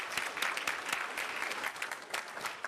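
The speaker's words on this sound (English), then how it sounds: "I would just like us to now give a round of applause" A committee meeting gives a round of applause: dense, steady clapping from a roomful of people, moderately distant, with no talk, lasting the whole stretch.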